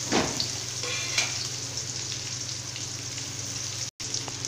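Dried red chillies fry in hot oil as the base for a gourd sambar, giving a steady, close sizzle with a sharper crackle at the start and a momentary dropout near the end. No one speaks.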